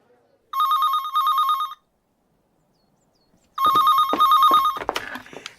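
A telephone rings in a radio drama scene: two bursts of a bright electronic trill, a pause of silence, then two more bursts, loud and close, with a faint rustle and handling noise as the ringing stops.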